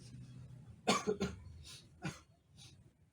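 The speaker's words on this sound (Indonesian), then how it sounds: "Dan batuk-batuk juga." A few harsh coughs close to the microphone, a quick double burst followed by two lighter coughs, with quiet pauses between.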